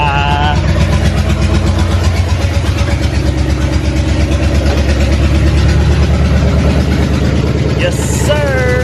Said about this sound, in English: Let's do another cold start. I had to just make sure everything was good, cleaned, and we're gonna fire up once again.